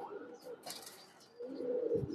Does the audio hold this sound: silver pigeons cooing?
yes